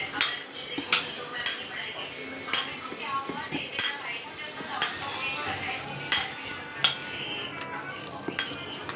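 Chicken pieces are mixed by hand with spices in a metal bowl, giving repeated clinks and scraping knocks at an uneven rhythm, close and fairly loud, with faint background noise.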